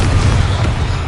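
Heavy booming blast of the Confringo explosive spell during a Hogwarts Legacy fight, loud and close, a thick low rumble that holds steady for about a second.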